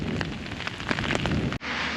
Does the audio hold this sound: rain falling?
yes